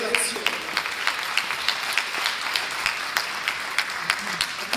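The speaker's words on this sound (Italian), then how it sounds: "un applauso a Villarigno con la sua relazione" Audience clapping greets a speaker taking the stage at the To Be Verona 2018 forum, a moderate, steady patter of applause with scattered sharper claps, while a presenter's voice talks over it.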